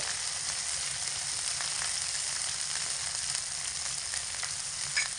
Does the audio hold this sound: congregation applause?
no